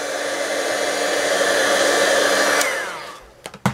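Heat embossing tool blowing hot air over foil paper, a steady loud whooshing roar that runs continuously, then cuts off and winds down, followed by a few short clicks and knocks.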